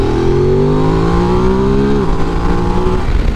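A Ducati DesertX adventure motorcycle engine climbs steadily in pitch under acceleration, then drops briefly at a gear change before pulling again, loud and close over constant wind rush.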